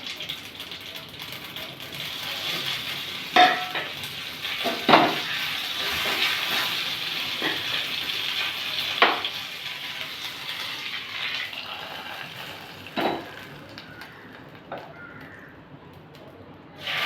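Dried red chillies and curry leaves frying in hot oil after mustard seeds pop, tempering for pineapple rasam: a soft continuous sizzle with several sharper crackling bursts and spits scattered across it.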